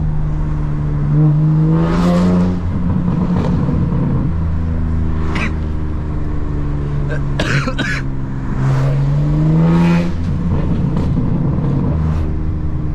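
A BMW G80 exhaust with a catless downpipe rumbling and revving repeatedly, pitch swelling and falling in several pulls, with a raspy, loud tone up close.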